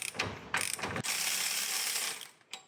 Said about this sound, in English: So I'll try to take this off with the breaker bar first.